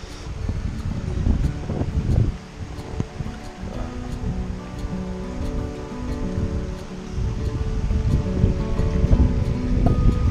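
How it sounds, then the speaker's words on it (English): Calm water flowing in a small stream toward a tranquil estuary, a continuous broadband wash with gentle surges, close and steady, with light wind buffeting the microphone. "A nice sound of the water just flowing calmly."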